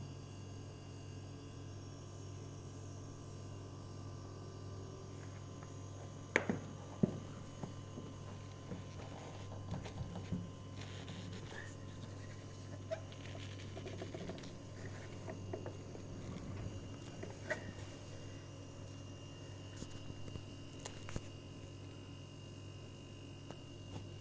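The compressor motor of a Whirlpool WTH5244NFX double-door no-frost refrigerator makes a steady low mechanical hum that drones on throughout, with a few faint clicks and knocks scattered over it; no voices.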